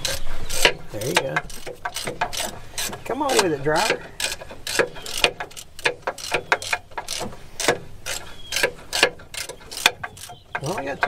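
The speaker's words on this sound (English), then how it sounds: "No, I can get a ratchet." Ratchet wrench clicking on a broken semi truck, bursts of rapid ratcheting strokes repeating through the stretch, close and loud, with people talking over it.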